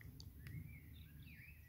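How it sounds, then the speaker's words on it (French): Small birds chirp faintly in quiet ruins of old dwellings burned in 1923, a few thin, scattered calls over a low, steady background hum. "Je vous laisse écouter les petits oiseaux."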